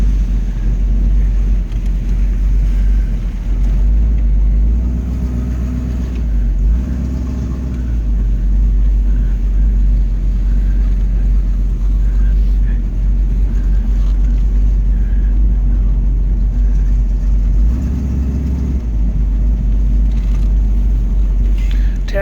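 A 1937 Ford Coupe drives slow passes through a parking lot, its engine a loud, steady low rumble that swells briefly as it accelerates and shifts from first to second gear, with no talk over it.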